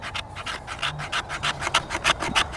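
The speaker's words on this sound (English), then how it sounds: "we'll see if we can scrape ourselves off a little pile" Schrade SCHF16 knife spine notch scraping wood into shavings: a steady run of close, dry rasping strokes in quick rhythm, with no talking.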